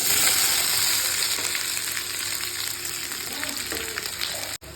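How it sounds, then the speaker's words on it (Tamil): Sliced onions and curry leaves sauté in hot oil with mustard seeds, giving a dense, even, fairly loud sizzle with faint stirring beneath it, which cuts off abruptly near the end. "வெங்காயம் இந்த அளவுக்கு வதங்கிச்சுங்க, இந்த மாதிரி கோல்டன் கலர் வந்துச்சுங்க."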